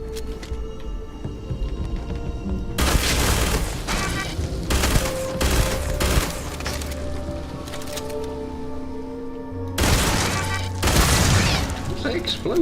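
Explosions and bursts of gunfire in the space game Starfield: loud broadband blasts in clusters, with a short lull before a second heavy burst, all over a steady game soundtrack and no talk.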